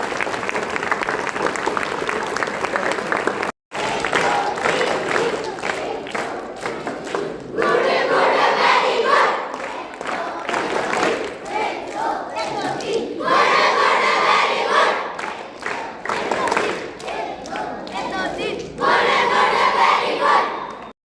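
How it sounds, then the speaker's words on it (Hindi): A crowd claps loudly and continuously at a Republic Day school celebration, a dense wash of applause mixed with some cheering. It runs almost unbroken, with one brief cut near the start. "बहुत देर तक ताली बजाते हैं।"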